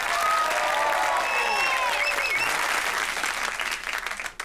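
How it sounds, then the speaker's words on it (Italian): Studio audience at a reality TV reunion show applauds loudly and continuously, a dense wash of clapping with whistles and cheers layered over it, tapering slightly at the end. "Facciamo un grande applauso a Vicky e Jay!"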